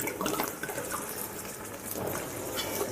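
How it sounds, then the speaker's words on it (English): Red wine splashes and sizzles steadily as it is poured over browning meat and tomato paste in a hot pan, a continuous close wash of liquid noise with no talking. "So we poured in 1/2 litre of wine, 500 mils, and now it's evaporated off."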